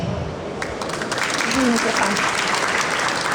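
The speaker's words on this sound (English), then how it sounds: "I'd like to now invite to the floor with your round of applause Iranian steel industry senior analyst Dr. Al" An audience at a metals industry conference claps steadily, a dense wash of applause that swells slightly and holds at full strength throughout.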